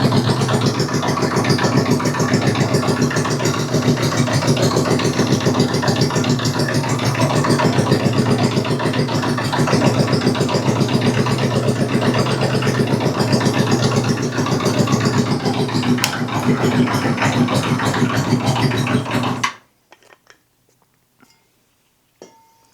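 A Honda CB750 motorcycle engine idles steadily and loud for about nineteen seconds with a slightly uneven pulse, then cuts out abruptly, leaving near silence.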